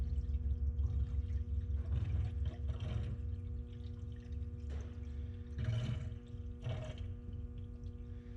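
Coolant water poured into a car's cooling system, a steady gurgling and splashing stream with occasional swells and glugs, continuous and moderately close over a low background hum.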